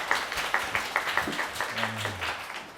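An audience at a humanities concert lecture in Hongdae, Seoul, claps to welcome the author Kim Young-ha, a brisk run of distinct, rhythmic claps with a brief voice heard near the end.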